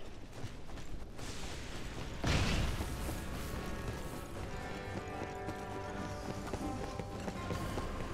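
A horse's hooves clip-clop at a steady gallop in Wo Long: Fallen Dynasty, with a louder burst of impact around the two-second mark and clattering game sounds throughout.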